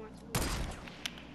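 Sniper rifle fire in Fortnite: one sharp, loud shot followed by a fainter second crack about a second later.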